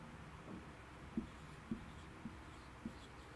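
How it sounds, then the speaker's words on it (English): A pen writing notes on paper during a lesson about family vocabulary, with faint scratching and a few soft taps as strokes land, quiet and close, with no talk. "So, let's write it down here."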